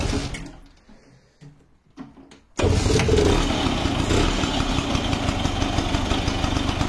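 A carbureted motorcycle engine kicked over by hand: quiet clicks and rustling, then the engine suddenly catches and settles into a loud, steady, throbbing idle close by.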